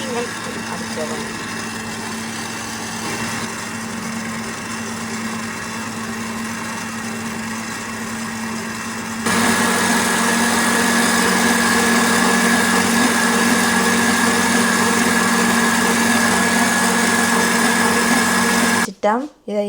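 Electric mixer beating sugar into a creamy cake batter, a steady high motor whine that grows louder and more strained partway through, then cuts off abruptly at the end.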